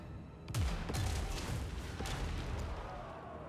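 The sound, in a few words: gunfire from Total War: Warhammer 2 video game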